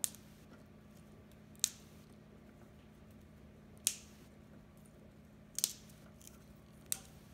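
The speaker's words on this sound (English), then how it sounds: "So we are going to trim the asparagus now." Asparagus stalks are trimmed in a quiet kitchen with five crisp, sharp snaps spaced a second or two apart, close to the microphone over a faint background hum.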